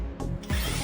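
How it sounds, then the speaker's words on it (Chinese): A screw on a window fitting being loosened with a hand tool, a couple of short close ratcheting, grinding clicks under a second. "然后现在就可以把这个螺丝松了，先松下面这个螺丝"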